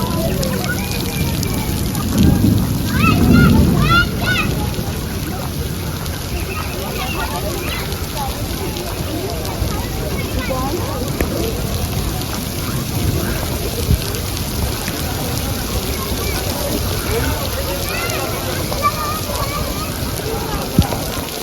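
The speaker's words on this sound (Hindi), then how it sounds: "बारिश तेज़ हो गई है।" Heavy rain pours steadily outside Al Kiswa Towers hotel in Makkah, a dense continuous wash of falling water close to the microphone, with voices talking underneath.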